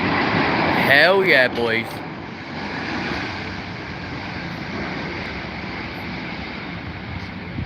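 Rolls-Royce Trent engines on an airliner spool up at Heathrow with a broad, steady roar heard from a distance. Someone shouts briefly early on over the rushing engine noise.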